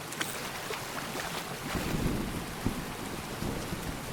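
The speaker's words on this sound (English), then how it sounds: "Waterfall plus rain is a very nice layering sound effect." Rain falling together with a rushing waterfall in the farming game Grimshire, a soft continuous wash of broadband hiss with faint patters, steady and fairly quiet with no voices.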